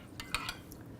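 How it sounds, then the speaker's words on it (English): A utensil stirs salt into a stone-ground mustard mixture in a bowl, giving a few quick, faint scrapes and clinks in a short burst against a quiet kitchen. "stir it around just to make sure we dissolve"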